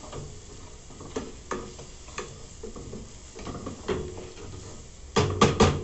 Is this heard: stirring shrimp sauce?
yes